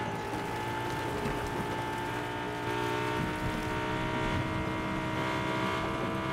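A Fortnite car roars along in-game with a steady engine hum and a rattling, ratchet-like mechanical clatter that grows louder partway through, with no voices.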